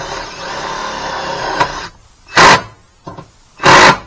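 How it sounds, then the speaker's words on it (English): A drill bores through a thin metal exhaust heat shield on a 4WD Pontiac Daytona during a muffler install, sounding as two short, loud, close bursts separated by a quiet gap after a stretch of steady scraping and rustling. "Drill through this shield thing."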